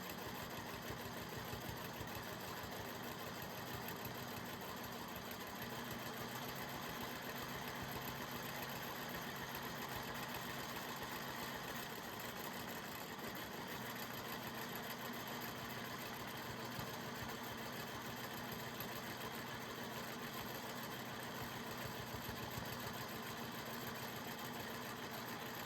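A sewing machine stitches a grid design across a sky-themed quilt, its motor humming in a steady, continuous mechanical whir for the whole stretch with no talking.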